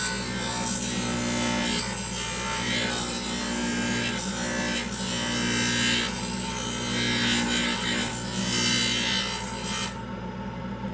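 Steady rasping and grinding as an acrylic dental retainer is trimmed and thinned down with a rotary tool, continuous and close for several seconds before cutting off abruptly.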